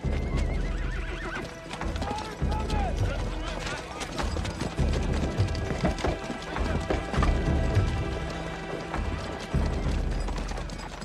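Several horses clip-clop and whinny as riders rein them back on approach to a Mexican town, hooves thudding close and loud in an uneven rhythm, with wood knocks and a rattle of tack mixed in.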